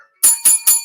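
A bicycle-style bell gives four quick bright rings that follow one another closely. It sounds close and loud and has a slightly muffled edge.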